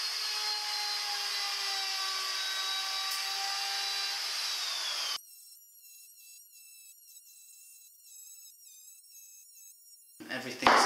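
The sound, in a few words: wood router routing plywood edges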